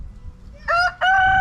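A rooster crows loudly nearby in two harmonic bursts, preceded by low rumbling background noise.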